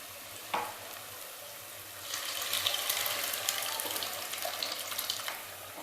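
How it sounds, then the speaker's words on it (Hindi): Cooked lentils tip into a hot pan, giving a sharp splash followed by a continuous crackling sizzle as the dal is stirred, fairly close and unbroken. "इसमें अब मैं डाल देती हूँ ये अपनी गली हुई दाल।"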